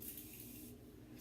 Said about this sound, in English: And then I'm gonna spray it a little bit with my Morphe spray.